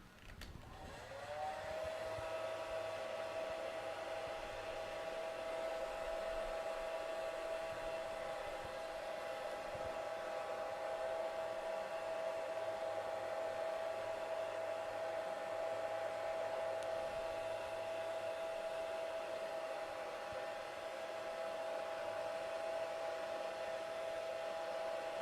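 A hair dryer blows continuously over a painting, a steady close whine with a constant airy hiss that holds unchanged for the whole stretch after starting up.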